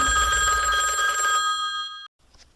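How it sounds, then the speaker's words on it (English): A telephone bell rings loudly and steadily with a bright, sustained metallic tone, then cuts off abruptly, leaving near silence broken by a faint rustle. "The phone rang the instant she finished reading."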